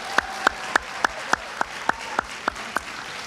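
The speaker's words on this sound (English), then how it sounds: "how about a round of applause for our business owner nominees for 2023?" Applause for business owner nominees at an awards ceremony, heard as a string of about eleven sharp, evenly spaced claps in a brisk steady rhythm, clear and close over a quiet room background.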